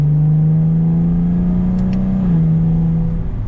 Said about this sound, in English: It's not crazy loud, but for a V6, I think it's pretty good for a stock exhaust as well.